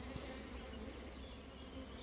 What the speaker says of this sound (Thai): ส่วนตัวผึ้งก็ไปทำรัง